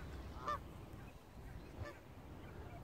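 Geese honking near a recreation area on an evening outing, two short nasal honks about a second apart over a quiet, faintly noisy outdoor background.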